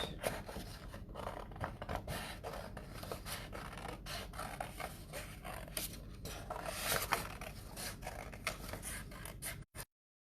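Paper being cut into a circle with scissors for a kids' craft, a steady close run of rustling snips and scraping rubs filling about ten seconds, then stopping abruptly.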